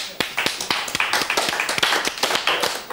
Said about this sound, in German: Einen warmen Applaus für den Beat Wicki.